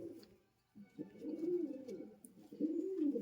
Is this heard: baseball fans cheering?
no